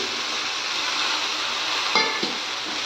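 Chopped ridge gourd going into a pan of cooking tomatoes for a moong dal kootu, a continuous loud sizzle with a couple of brief clinks of a utensil against the pan.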